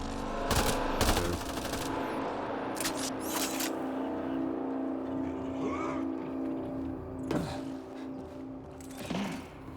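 Sporadic bursts of gunfire in Mass Effect: Andromeda over a steady engine-like hum, with a few sharp shots early, scattered quieter ones later, and a final burst near the end.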